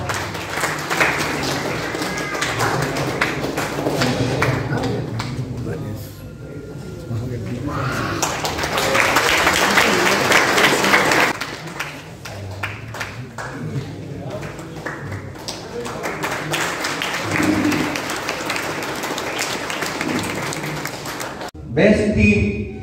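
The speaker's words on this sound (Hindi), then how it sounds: "तालियां बजती रही थी" Applause from an audience at a finance company's 35th foundation day celebration, sustained broadband clapping that runs under amplified speech through most of the stretch, with brief dips between bursts.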